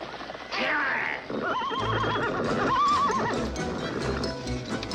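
A horse neighs loudly and shrilly in the 1969 film The Wild Bunch, whinnying in wavering bursts over clip-clopping hooves, close and prominent.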